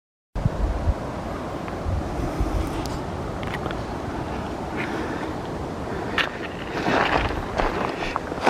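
Glacial meltwater rushing steadily near the Grand Méan glacial lake high in the Alps at Bonneval, a continuous broadband roar mixed with wind buffeting the microphone, with a few faint clicks and no talking.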